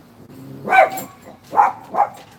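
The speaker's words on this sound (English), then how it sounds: "And the fact that these dogs barked all day," Dogs barking, three loud close barks, a single bark and then two more in quick succession, over a quiet background.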